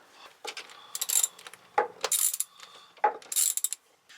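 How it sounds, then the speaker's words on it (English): A socket wrench ratchets in several short bursts of rapid clicking while bolting a diesel heater to the underside of a 2019 Sprinter van, with brief gaps and some metallic handling between the bursts, close and clear. "bolt them down with a socket wrench"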